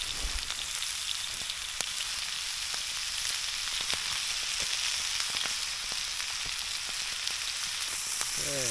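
Onion and carrots frying in a pan alongside meat, a steady close sizzle with scattered crackles and pops that holds evenly throughout, with no talking.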